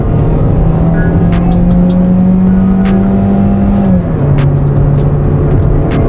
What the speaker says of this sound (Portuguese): Mas, vamos supor, pisei tudo aqui.